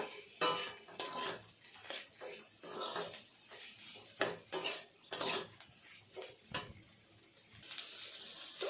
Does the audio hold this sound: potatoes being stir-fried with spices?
yes